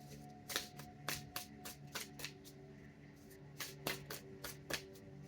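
Tarot cards being shuffled close up in a quiet room, with repeated crisp riffling bursts in an uneven rhythm over a faint steady hum.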